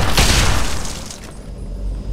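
A single loud, booming magnum revolver gunshot in Fallout 3 with a heavy blast at the start, then a decaying echo and low rumble fading over two seconds.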